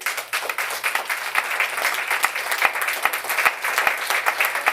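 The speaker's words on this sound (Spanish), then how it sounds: "Denle un aplauso al Señor este día." Congregation applauding at the close of a church seminar, a dense, lively round of clapping with sharp individual claps standing out, sustained evenly from start to finish.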